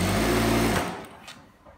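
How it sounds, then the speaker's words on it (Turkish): Sewing machine stitching the side seam of palazzo trousers: a close, loud whirring run that stops after under a second, leaving a faint quiet tail. "Yan dikişi çatıyorum."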